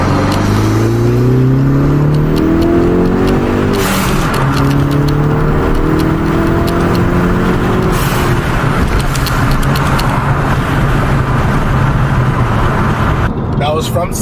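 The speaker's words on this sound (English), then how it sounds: "I am going to set it up to atmospheric vent to blow off because I also need to test that out and see how that sounds" Hyundai Veloster accelerating hard through second gear toward redline, with the engine droning loud and rising in pitch, then a sharp venting blow-off from a GFB DVX diverter valve set to atmospheric vent near the end, all close and continuous.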